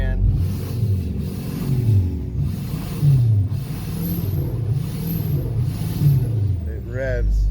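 A swapped Duramax LMM diesel engine revs repeatedly, its deep rumble climbing and falling in several swells over a steady idle, fairly close and loud.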